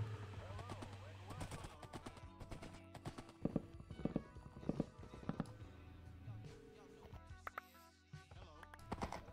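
Horse hooves clip-clop in a video game as the player rides through a mushroom biome, a quick rhythmic trot of close, distinct hoofbeats over a busy bed of game sounds and music.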